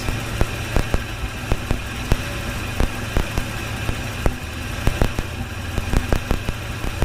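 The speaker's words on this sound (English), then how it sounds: "the engine's a little fumbly right now" A Datsun Z car engine idling roughly, with a steady low rumble broken by irregular ticks and clicks, heard close with no talking.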